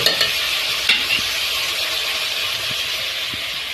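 Ginger garlic paste sizzling in a hot pan while it is stirred during vegetable biryani preparation, a constant close frying hiss with a few light knocks from the spoon.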